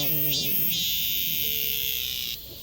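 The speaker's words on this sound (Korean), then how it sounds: "밤나무에서는 멋진 매미의 노랫소리가" Cicada sings in a chestnut tree in summer heat, a loud, continuous high buzzing drone that pulses at first, holds steady, then drops off near the end.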